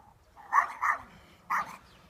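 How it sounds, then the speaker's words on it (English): A dog barks three times outdoors on a walk in Alcudia, Mallorca: two quick barks, a short pause, then one more, fairly close and clear. "the dog barks something chronic"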